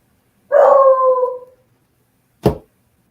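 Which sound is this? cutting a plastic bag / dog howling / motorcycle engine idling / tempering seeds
dog howling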